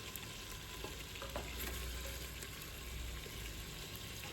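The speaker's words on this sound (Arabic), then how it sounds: "أنا بحب هيك أقلي الدجاج لحتى ياخد لون" Chicken fries in oil with a steady, close bubbling sizzle and occasional stirring scrapes, continuous and fairly quiet without any talk.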